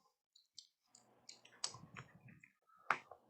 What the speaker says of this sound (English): so you can see these are being properly shuffled